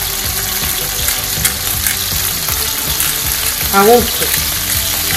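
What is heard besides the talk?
chicken frying in a pan for paella valenciana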